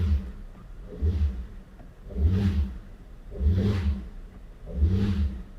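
Cadillac CTS engine revving while power braked in drive to check for worn motor mounts, five rhythmic rising surges about a second apart, moderately loud and close with no talk over them.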